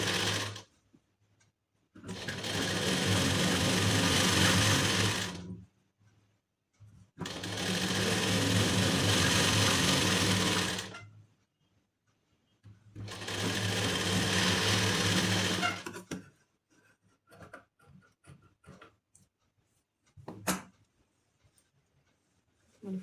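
A sewing machine stitches a blouse lining in three steady motorised bursts of a few seconds each, close and loud, separated by pauses, followed by faint handling clicks.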